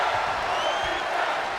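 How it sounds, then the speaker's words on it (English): A wrestling crowd at an SCW Showdown show cheers and applauds in a steady, dense roar that fills the short moment, with a commentator's voice faintly underneath. "And the crowd is loving this match."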